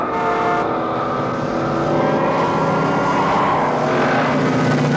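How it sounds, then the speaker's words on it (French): A high-speed car chase from the 1986 action film Cobra: roaring engines and dense vehicle noise fill the scene, loud and continuous, with a sweeping, building rush rather than distinct separate events. "Chasse-poursuite hyper stylée."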